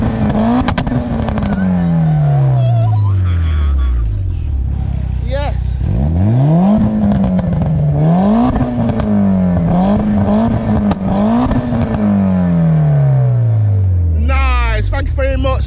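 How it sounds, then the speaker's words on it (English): Modified car revving at a Japanese car show, the engine sweeping up and down in repeated loud revs with sharp throttle blips, close by and mixed with crowd chatter. "Somebody's revving the car."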